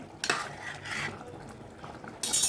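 Short scraping and clinking of a spoon stirring chicken biryani in a pressure cooker, a few quick strokes, close and fairly quiet.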